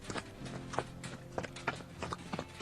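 Horse hooves trotting in the video game Expeditions Conquistador, a steady clip-clop of several close, crisp strikes over a low game soundtrack, with no talking.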